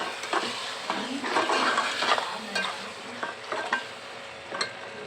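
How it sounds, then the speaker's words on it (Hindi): A spoon stirs ground red chili and coriander into a cooking pot for a red kidney bean curry, making close scraping strokes and soft knocks against the metal over a light sizzle. "अब हम इसमें चम्मच चलाते हैं"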